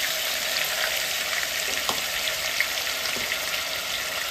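Onion-tomato paste for a mutton curry sizzles steadily in hot oil with curry leaves in a pan, a dense continuous frying hiss with a few soft stirring knocks, close and fairly loud, no voices.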